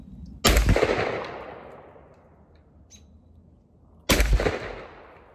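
A 12 gauge Montgomery Ward Western Field Hercules double-barrel shotgun fires Fiocchi low recoil shells outdoors, two loud close blasts a few seconds apart, each with a long fading echo.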